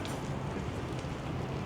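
Light drizzle falling steadily outdoors in misty Greenwich, London, among palm trees, a soft continuous hiss of rain with faint wind, constant and even throughout with no talking.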